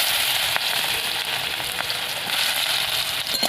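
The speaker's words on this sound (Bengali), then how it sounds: "ভালো করে লাল লাল করে ভেজে নেব।" Chopped onion frying in hot oil with whole crushed garam masala, a steady loud sizzle and crackle that fills the whole stretch without pause.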